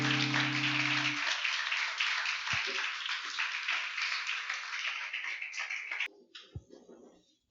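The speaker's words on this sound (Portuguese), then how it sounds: "Vamos dar uma salva de palmas ao Senhor." A church congregation applauds in a steady, dense burst of clapping for about six seconds. The applause then thins out into a few scattered claps before stopping.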